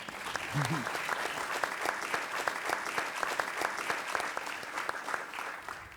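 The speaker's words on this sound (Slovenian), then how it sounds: "To pa si res zasluži aplavz" An audience at a book presentation of postcards applauds steadily throughout, dense even clapping at moderate distance with a brief voice near the start.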